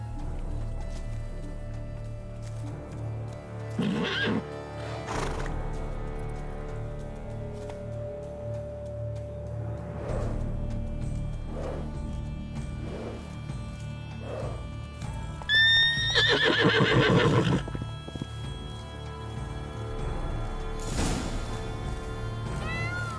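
A unicorn in The Witcher 3 video game neighs and whinnies several times over a quiet ambient backdrop, with soft hoof clip-clops and a longer, louder whinny midway.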